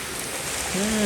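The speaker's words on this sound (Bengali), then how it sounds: "বিশাল বৃষ্টি পড়ছে," Dense, steady rain pours down with a broad hiss, and a short voice sound rises near the end.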